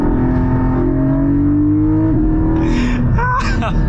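Porsche 718 Cayman GT4 on a road drive with PDK gearbox, its engine droning steadily then rising in a loud rev toward the end, with speech over the engine.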